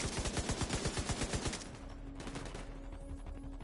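A minigun in a video game fires a loud, rapid burst of evenly spaced shots for about a second and a half. It then drops into a sustained whirring spin with a steady tone and a faint rattle.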